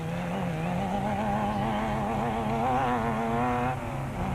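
A Raceco desert race car engine drones steadily as it labours through soft, thick desert sand, a loud continuous rising and wavering tone with slight revving shifts, heard close and alone.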